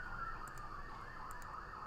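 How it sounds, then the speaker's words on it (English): An ambulance siren wails faintly at a distance near a highway accident scene, its steady rising and falling tone continuous under a low, broad background rumble. "We got an ambulance on their way out now."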